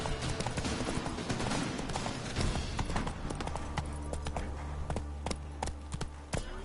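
Roach, the horse in The Witcher 3 video game, gallops in a quick, steady clip-clop of hooves with a few sharper hits scattered through, and no talking.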